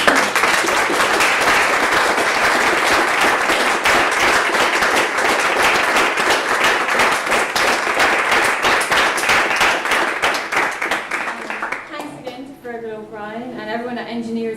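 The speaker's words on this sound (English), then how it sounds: "just want to give a round of applause for" A seminar audience at an engineering Q&A on computational mechanobiology claps in a full, even round of applause for about twelve seconds; the clapping fades out and a speaker's voice follows.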